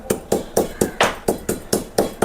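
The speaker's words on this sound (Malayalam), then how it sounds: "ആ സമയം കൊണ്ട് നമുക്ക് ഏലക്ക ഇടിക്കാവേ" Cardamom pods are pounded in a steady series of about nine sharp, evenly spaced thuds, close and fairly loud, with no voices.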